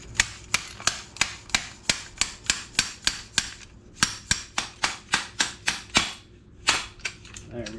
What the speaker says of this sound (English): Get my bushing down in there first.